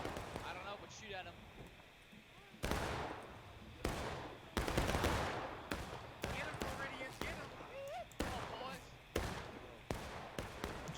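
Gunfire in a Civil War video game on the Pry House map of a 220-player public match, with loud rifle volleys and single shots cracking at irregular intervals over a rumbling battlefield, some near and some farther off.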